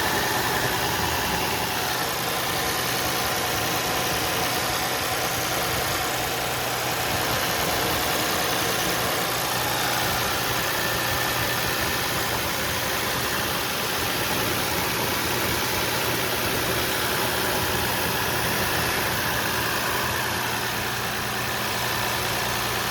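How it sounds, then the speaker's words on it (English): A Lexus IS 250 engine idles steadily after a radiator and fan assembly replacement, giving a constant, fairly loud hum with an even vibration and no break throughout. "Turn on the engine."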